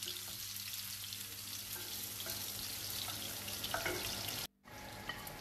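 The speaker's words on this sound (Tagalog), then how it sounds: "Siyempre, may hot oil na sa pan. Gisahin na natin ang ating sibuyas" Onion sautéing in hot oil in a pan, a steady close sizzle running throughout with small crackles, cutting out briefly near the end before resuming more quietly.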